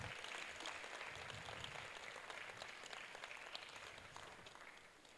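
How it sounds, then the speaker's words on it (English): Youth summit audience clapping, a soft, distant patter of many hands that stays steady and slowly fades toward the end, heard alone without speech. "Let's keep clapping for them."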